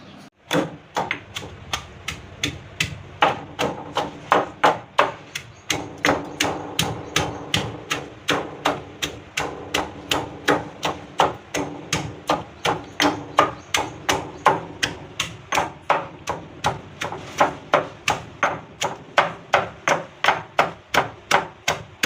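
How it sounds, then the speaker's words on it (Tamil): Green chillies pounded with a pestle in a mortar for Kerala-style jackfruit puzhukku, a steady run of loud, evenly spaced thuds, roughly two per second, continuing alone without pause. "இதை வந்து நம்ம இடிச்சுக்கலாம் நல்லா."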